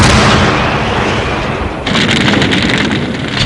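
German artillery, including heavy 400 mm railway guns, bombarding Sevastopol in 1942: a continuous, loud rumbling barrage of booms and blasts with a fresh surge of noise partway through, no voices.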